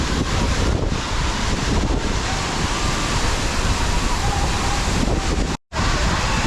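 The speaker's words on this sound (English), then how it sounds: "This waterfall." The Yadim waterfall in northeastern Nigeria pours with a loud, constant roaring rush, mixed with buffeting wind against the microphone and a brief dropout near the end.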